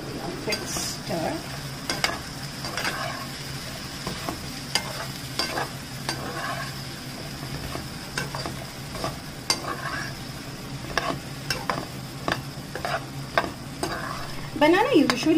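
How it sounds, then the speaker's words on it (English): Raw banana curry sizzling in a pan while being stirred, with repeated sharp spoon scrapes and taps over a constant hiss of frying, close and fairly loud. "And I'm going to give it quick stir."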